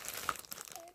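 A first aid kit bag crinkles and rustles softly as items are packed into it, a faint continuous crinkling heard close up.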